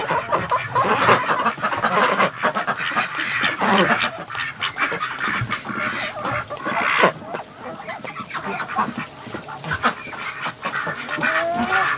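A noisy flock of Muscovy ducks hissing and calling, with overlapping honks and harsh notes throughout, close by and fairly loud.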